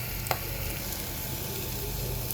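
Pork fries in a covered pan, giving a soft, steady sizzle that stays even and fairly faint from start to finish.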